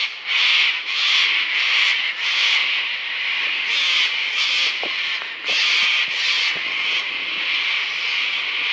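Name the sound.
cockatoos noisily coming in to roost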